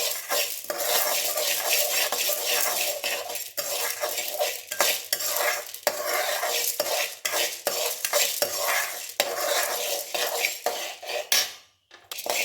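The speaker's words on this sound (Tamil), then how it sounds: "50 கடலப்பருப்பு போடணும். அதையும் நல்லா செவக்க வறுத்துடணும்" Chana dal dry-roasting in a pan for idli podi, stirred continuously so the lentils rattle and scrape against the metal in a dense, steady clatter for the whole stretch, with no talking.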